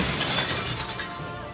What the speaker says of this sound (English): The cup of warm water shatters in her hand, leaving only one sharp piece of glass.